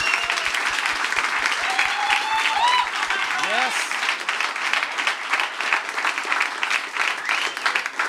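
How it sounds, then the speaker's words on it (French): Audience applause for two podcast guests, a full burst of clapping throughout with a cheering voice rising briefly over it, plus a few spoken words and a low rhythmic thump underneath at the start. "donnez une bonne main d'applaudissement à Vincent C."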